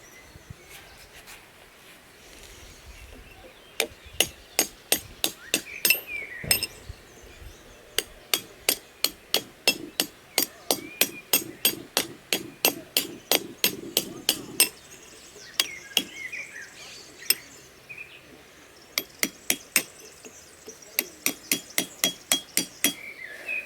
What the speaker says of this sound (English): This is a hand chisel with a point, and this little hammer